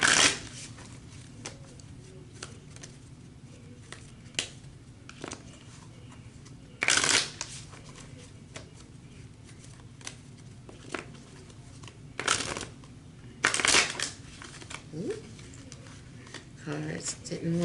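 Deck of tarot-style reading cards being shuffled in several brief riffling bursts spread across quiet stretches, close by, with a person speaking softly in between.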